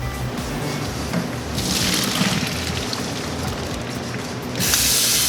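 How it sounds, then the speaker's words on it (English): Water from cooked spaghetti pours off in a steady, hissing rush while draining in a home kitchen, with a louder surge near the end and no talking. "I will take my pasta and drain the water."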